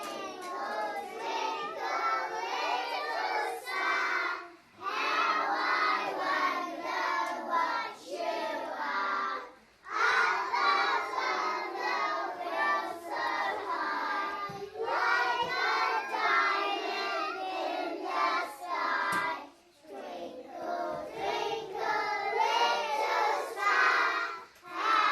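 A group of young children singing a song together at a children's show, bright high voices in continuous phrases broken by short pauses between verses, close and clear.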